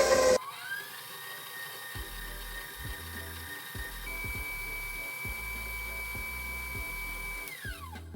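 An electric mixer whirs steadily as it beats smooth butter with sugar for a gateau breton, its motor pitch holding then rising partway through, with rhythmic low knocking of the beaters against the bowl before it winds down.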